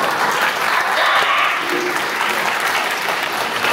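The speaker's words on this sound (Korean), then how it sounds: "박수 한번 주세요." A Korean church congregation in Wroclaw, Poland, claps together in a full, steady burst of applause, close and continuous from start to finish.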